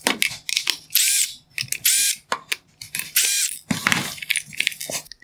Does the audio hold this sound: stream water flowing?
no